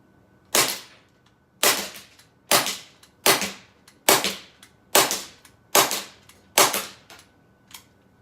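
Eight crisp, loud shots from an Elite Force Glock 17 CO2 blowback airsoft pistol, fired outdoors at dusk at a steady pace about one second apart. Each is a sharp pop with a short trailing decay.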